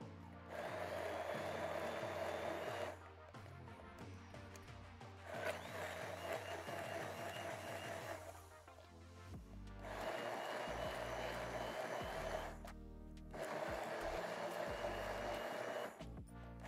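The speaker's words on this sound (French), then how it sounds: "Et tu vas au blender pour mixer tout ça." Kitchen blender whirring loudly as it purées corn kernels with cream, running in several steady bursts separated by short pauses.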